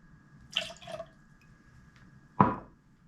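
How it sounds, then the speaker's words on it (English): Lemon juice, half an ounce, is poured into a cocktail shaker for a sake cocktail in a quiet room, giving a few faint drips and a short splash, then one sharper liquid hit near the end. "Put in a ½ ounce of lemon juice."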